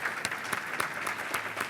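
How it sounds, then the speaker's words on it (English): Audience applause at a conference plenary session, a steady patter of many hands clapping throughout, fairly close and full, with no talk over it. "round of applause"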